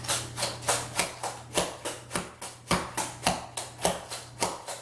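Dance shoes click their heels in a steady, even rhythm, about sixteen sharp taps spaced close together, heard alone without talk against a low steady hum.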